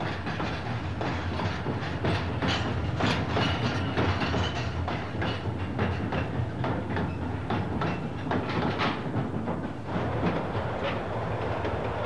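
An underground mine train hauls ore in rail trucks along the shafts, a continuous rumble with rhythmic clickety-clack of wheels over rail joints, loud and close throughout.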